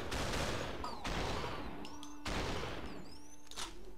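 Gunfire in the video game Superhot, a dense, loud barrage of shots with brief pauses and ringing tonal effects in between, filling the whole moment without speech.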